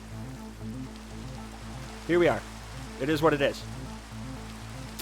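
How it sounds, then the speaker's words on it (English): Steady rain patters in a modded Minecraft survival world, a soft continuous hiss beneath someone briefly talking. "It's raining out, and that makes me mad"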